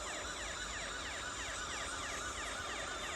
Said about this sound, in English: What's up, blue lights and sirens?